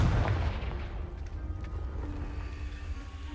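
In Hogwarts Legacy on PS5, a Confringo fire spell hits with a heavy low boom that rolls into a long, fading rumble, loud at the start and tapering off.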